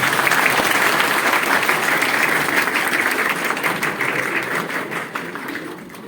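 Loud, sustained applause from a large audience welcoming a minister at an institute event, dense steady clapping that gradually thins and fades toward the end.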